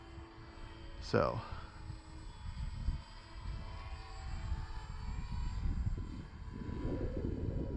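A Dancing Wings Hobby Stick 14 RC model airplane drones faintly in the distance, with one quick sweeping pass early on, while people talk quietly nearby.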